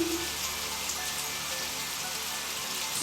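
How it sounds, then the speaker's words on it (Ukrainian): Raindrops drum steadily on a surface, a dense even patter that continues unbroken and fairly close throughout, with no voices. "Я почула, як шумлять та барабанять краплі дощу."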